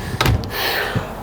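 A wardrobe door inside a 2020 Thor Outlaw 29J Class C toy hauler motorhome is opened or shut, giving a quick knock at the start followed by a second softer bump about a second later.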